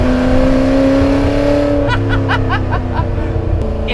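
A Ford GT40 race car in Gulf livery drives along, its engine a loud, steady droning tone heard from inside, with a few brief rattling chirps midway.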